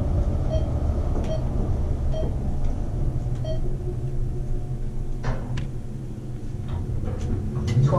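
An Otis elevator motor in the Sheraton Boston's South Tower runs with a steady low hum and rumble, with a few faint clicks and ticks over it. No one speaks.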